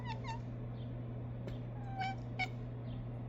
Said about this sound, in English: Look at this kitty.